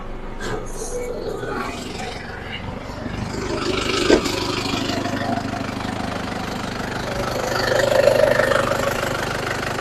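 A 3000cc pickup engine, manual four-wheel drive, idles with a steady low rumble and slight knocking, close by, with a brief clank and talk partway through.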